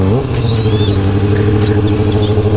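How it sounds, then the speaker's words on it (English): A motorcycle engine drones loudly and steadily at close range while riding, with a low throbbing hum and faint bird chirps above. "we get to ride motorcycles"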